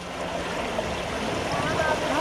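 Floodwater rushing across a damaged road in monsoon-hit Bihar, a steady broadband churning wash that fills the whole clip at close range, continuous without breaks.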